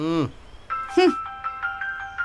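A phone rings with a repeating electronic melody of bright tones in a dubbed Tamil film scene, right after a short spoken line and a sharp sound effect.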